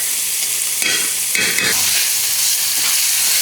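Sausage, onion and garlic sizzle steadily in a pan for lasagna, a loud continuous frying hiss with brief stirring scrapes in the middle, heard close and alone.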